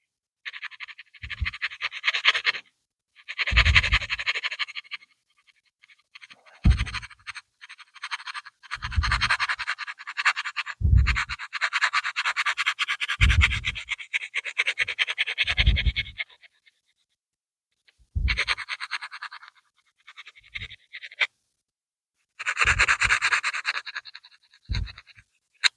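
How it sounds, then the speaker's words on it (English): Hand sanding of a model aircraft part, repeated rasping strokes in bursts of a second or two separated by short pauses, close and fairly loud with no talking. "so I'll keep sanding away"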